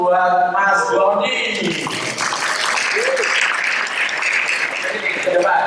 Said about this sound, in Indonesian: Berikan aplaus buat Mas Doni.